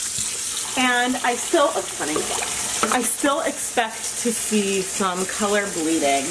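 Cool tap water runs and splashes while cotton yarn overdyed with Rit liquid dye is rinsed in a sink, a continuous wet wash beneath someone talking throughout.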